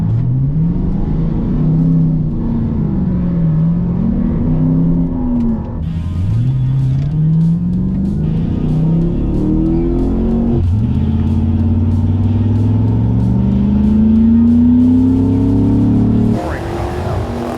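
An old Ford Galaxie launches down the strip in a Drag Week race, the engine loud and close as it revs through several rising gear pulls, with voices heard briefly over the run.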